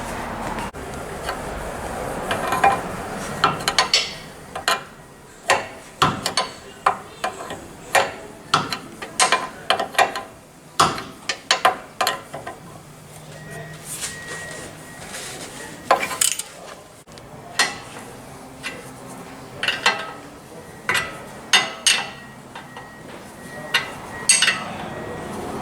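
Nut being torqued down on the factory pitman arm of a Jeep XJ/TJ steering setup, heard as a run of sharp metallic clicks and ratcheting ticks in irregular bursts, close and fairly loud, with no talking.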